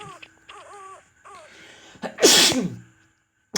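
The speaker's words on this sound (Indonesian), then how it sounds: "Bersin lagi." A single loud, sharp sneeze bursts out near the end of a horror ghost-hunting game session, preceded by a voice making whining, moaning sounds, with a brief thump right at the end.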